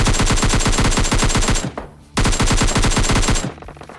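AKM gunfire in the mobile game PUBG Mobile Lite, loud rapid automatic bursts of evenly spaced shots, a long burst, a short pause, then another sustained burst, with no talk.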